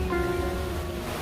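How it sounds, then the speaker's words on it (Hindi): Continuous rushing of a nearby waterfall at a nature-side restaurant in Spiti Valley, Himachal, a broad, even wash of falling water without speech. "ये आवाज़ सुन रहे हैं आप, ये वाटरफॉल है।"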